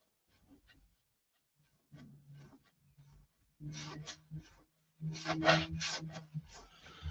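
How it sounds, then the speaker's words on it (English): Rough, rasping strokes of sanding against a surface, building from faint scattered rubs to louder, rhythmic back-and-forth passes close by. "Could you accomplish what you're sanding there with the shorter bar?"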